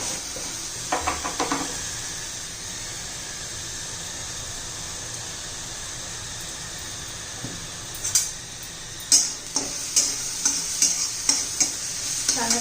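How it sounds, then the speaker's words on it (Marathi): Green chilies sautéed in a pan: a steady low sizzle with a spatula scraping and knocking against the pan in a quick run of strokes near the end, close and clear without talk. "परतून घेणार आहोत आपण मिरची आता ही"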